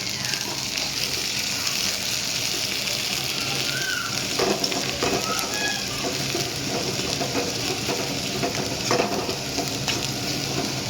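Onion for egg masala, fresh green onion and dry onion together, fries in a pan under a constant loud sizzle, with occasional scraping stirs throughout and no talk.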